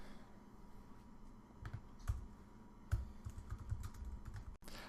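Quiet, close typing on a computer keyboard as code is written, irregular bursts of soft key clicks with short pauses and one sharper click near the end.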